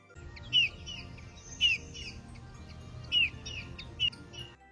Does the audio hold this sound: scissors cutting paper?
no